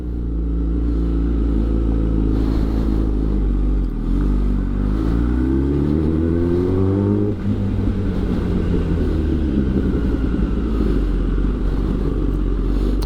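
A Kawasaki ZX10R sport bike fitted with titanium headers rumbles loudly while riding, its engine note climbing through a rising rev before falling back to a steady deep drone.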